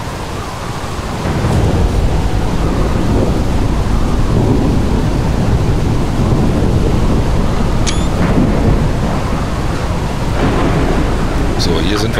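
Thunder and a lightning strike in The Solus Project game, a sustained roaring rumble with rain-like wash filling the scene at steady loudness, broken by faint chirping tones.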